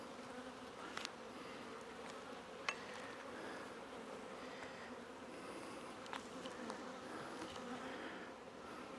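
Honey bees buzz around an open hive as frames are inspected, a dense steady hum of many insects close by, with a few individual bees zipping past the microphone.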